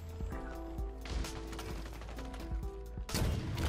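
Rocket launcher firing in the video game Halo Infinite: a few sharp, fairly quiet blasts separated by mechanical clicks and clunks, with a heavier burst near the end.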